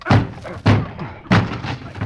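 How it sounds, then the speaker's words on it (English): Three heavy slams of a door being battered and broken down in an old radio drama, evenly spaced, loud and close, each a booming thud with a short splintering rattle. "Come on, help me break this door down."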